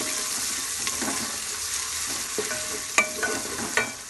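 Chopped onions fry in hot ghee in a pan for chana daal, a continuous soft sizzle broken by a few sharp clinks and scrapes of stirring, heard up close with no voices.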